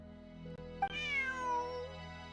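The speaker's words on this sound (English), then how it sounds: "Bonnie is Pierre's cat" A cat meows once in the video game Genshin Impact, a clear rising-then-falling mew over a steady game music background, close and distinct.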